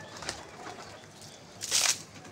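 Pigeons released from a loft: faint, soft cooing, then a sudden burst of wing flapping near the end, under quiet outdoor background.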